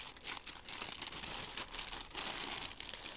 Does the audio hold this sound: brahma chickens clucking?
no